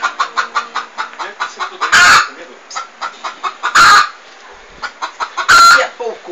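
A bossy hen clucks loudly and rhythmically close by, a quick run of sharp clucks broken by three harsher bursts of squawking.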